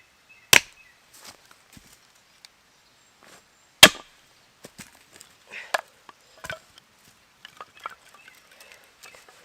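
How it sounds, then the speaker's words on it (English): Seasoned mountain ash is split into small pieces outdoors: two sharp, loud chops stand out, followed by lighter knocks and clatter of wood. "I'm just going to split a few little bits up."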